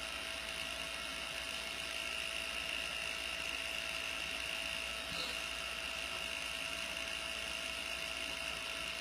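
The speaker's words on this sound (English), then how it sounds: "I'm going to go ahead and turn off my mini heater." Small electric mini heater used while applying nail wraps hums in a steady, even drone with a faint high whine, continuous and unchanging throughout.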